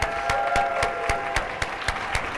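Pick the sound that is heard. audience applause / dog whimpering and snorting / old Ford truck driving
audience applause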